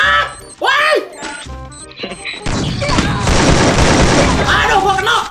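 In a Free Fire Clash Squad match, a grenade explodes and gunfire erupts, a loud sustained crackling blast after the first couple of seconds, with excited voices shouting over the game sounds.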